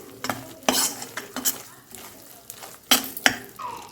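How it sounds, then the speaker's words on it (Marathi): Edible gum fries in ghee with wheat flour in a pan, heard as irregular spoon-on-pan stirring clatters over a light sizzle, close and fairly quiet. "तुपासोबत आणि आपण गव्हाच्या पिठासोबत याला मस्त फ्राय करून घेऊ"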